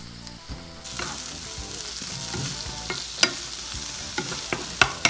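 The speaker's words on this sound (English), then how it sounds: "Oil our pan, chuck in our onions." Onions land in an oiled pan while cooking Korean japchae, a sudden hiss that settles into a steady close sizzle with stirring scrapes and a few sharper spatters toward the end.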